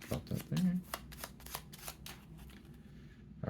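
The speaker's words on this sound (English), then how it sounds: "they get a new card and it shuffles in" Board game cards for the solo bot in Mint Imperium 3rd Edition are shuffled into a deck, giving close, crisp riffling and flicking bursts with a soft voice underneath.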